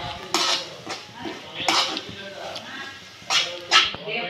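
A spoon scraping and knocking against a pan while coconut barfi mixture is stirred with ghee, giving several sharp metallic clinks and scrapes at close range with softer shuffling between them.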